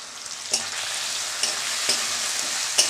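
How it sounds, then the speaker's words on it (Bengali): Onion, tomato, turmeric and chilli powder fry in a pan with a constant hissing sizzle, broken by four sharp scrapes of a spatula stirring the masala, close and with no voices. "সমস্ত মশলাগুলো আমি কষিয়ে নেব ভালো করে।"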